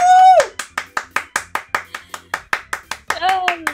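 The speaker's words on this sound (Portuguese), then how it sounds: "Muitas palmas." Steady hand clapping, about a dozen sharp evenly spaced claps from one or two people close by, after a gaming win in Free Fire, with excited voices at the start and end.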